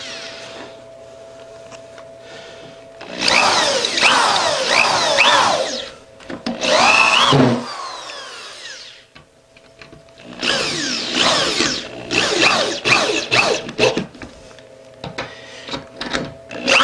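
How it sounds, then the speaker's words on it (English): A cordless drill drives screws into plywood subfloor in two long bursts, loud and close, with the motor whining and the bit biting into wood, a short pause between, and quieter room noise before and after. "As I tap them in like that, I'm able to get my hand on it and use the drill"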